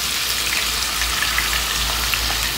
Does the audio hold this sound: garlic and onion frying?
yes